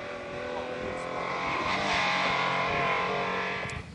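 Porsche Carrera 911 rally car on a Mid Wales forest stage, its engine droning steadily and swelling slightly mid-pass, fairly close, with a commentator's voice running over it throughout.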